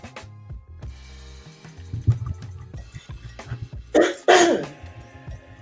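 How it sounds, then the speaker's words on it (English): Someone clears their throat with a few rough, gravelly bursts, the loudest near the end, amid soft shuffling and handling noise. "let me clear my throat"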